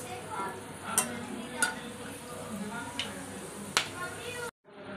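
A bay leaf with cinnamon, cardamom and cloves frying in hot oil for chicken do pyaza gives a steady close sizzle, with a few sharp clinks of a spoon against the pan, then cuts off abruptly near the end.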